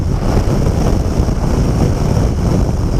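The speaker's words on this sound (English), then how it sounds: "it's a very windy day actually today" Loud, steady wind buffets the microphone, a continuous roaring rumble with no pauses and no voices.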